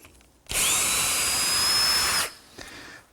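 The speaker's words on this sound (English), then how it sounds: "To drill the corresponding holes in the legs, I'm using a homemade jig." A power drill bores dowel holes into wooden chair legs held in a homemade jig, one loud, close, steady high-pitched whine lasting under two seconds, then stopping sharply, with no talking.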